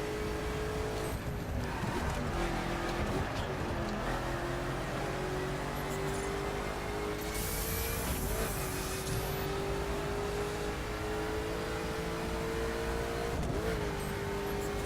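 A Koenigsegg Agera R in the video game The Crew speeds down a straightaway, its engine holding a steady, loud, sustained drone with slight pitch shifts as it gains speed, with no talk over it.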